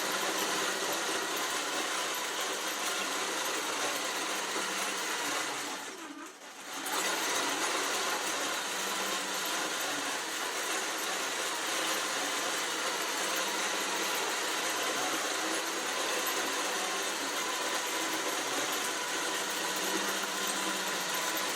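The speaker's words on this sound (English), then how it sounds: "And we're now doing our second set of stitching." A JUKI QCT5 quilting machine runs a computer-guided pantograph stitching pass across a quilt, giving a steady, moderate mechanical whir that continues almost unbroken with one brief dip, and no talking.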